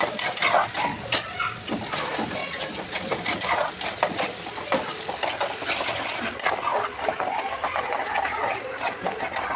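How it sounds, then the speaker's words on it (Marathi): Chopped onion sautéed in a pan for a Satara-style brinjal curry, with steady frying hiss under repeated metal spoon clanks and scrapes against the pan, close and fairly busy throughout. "आपला कांदा परतून घेतलेला आहे"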